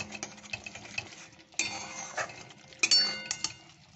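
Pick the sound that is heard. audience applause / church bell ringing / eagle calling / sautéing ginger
sautéing ginger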